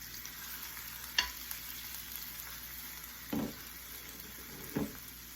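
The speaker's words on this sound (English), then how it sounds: "we're going to saute these onions and peppers just a little bit" Onions and peppers sauté in a pan, giving a steady close sizzle with a few brief stirring scrapes and clinks against the pan.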